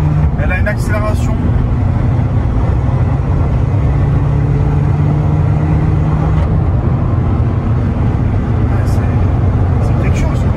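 Abarth 595 Competizione hatchback accelerating hard, its engine a steady loud drone with a rising tone, heard from inside the car beneath continuous talk.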